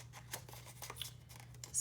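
Scissors trimming paper around a small moth embellishment: a quick run of close, crisp snips and paper rustles over a low steady hum, ending in a brighter swish, no talking.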